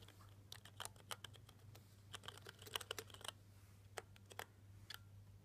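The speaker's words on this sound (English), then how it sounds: "going to type in a sentence and demonstrate how to make the keyboard speak for you" Someone types a sentence on a Dynawrite speech keyboard, a quiet run of quick, irregular key taps in short bursts with brief pauses, close and soft.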